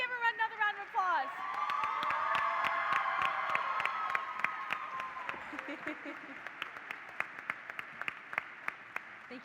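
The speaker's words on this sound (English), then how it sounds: "Let's give her another round of applause." Applause and cheering from the crowd at the 91st Illinois FFA State Convention, rising under a voice on the public address and thinning into scattered individual claps toward the end.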